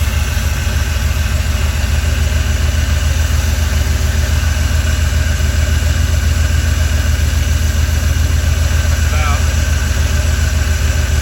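A carbureted car engine idles roughly with a steady, loud, low rumble throughout, its carburetor faulty and muffler damaged; a few faint voices are briefly audible over the running engine.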